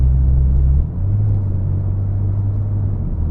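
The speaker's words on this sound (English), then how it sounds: "the sound of the V6 is just like, it's addictive to push the throttle" A 2011 Saab 9-5 Aero Turbo6 2.8T V6 with XWD and Stage 1 tune gives a steady, loud low engine drone under throttle, its pitch shifting slightly after the first second, with no talk.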